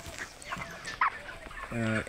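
A broiler chicken clucks briefly while being lifted from a farm flock. The clucks are short, near and moderately loud, with a rising squawk near the end, and someone speaks around them.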